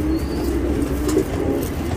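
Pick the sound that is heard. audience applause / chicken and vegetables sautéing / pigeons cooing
pigeons cooing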